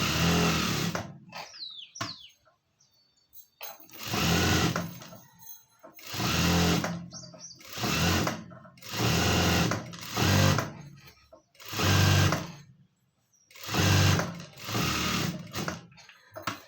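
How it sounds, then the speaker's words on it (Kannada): A sewing machine stitches a blouse lining in a series of short, loud bursts separated by pauses, each run of rapid mechanical chatter close up, with a little quiet handling between runs. "ಲೈನಿಂಗು ಕೊನೆಯಿಂದ ಸ್ಟಿಚ್ ಹಾಕೋತಾ ಬರೋಣ ಫ್ರೆಂಡ್ಸ್"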